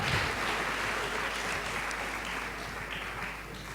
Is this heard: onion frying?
no